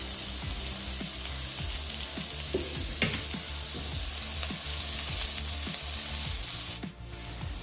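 Chopped onions and green chillies fry in hot oil, producing a loud, continuous sizzle close up, with repeated scraping strokes of a stirring spoon throughout.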